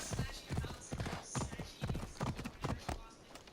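Horse hooves in the video game Assassin's Creed, a steady run of rhythmic clip-clop steps at a trot, moderately close, with speech that is not clearly picked out.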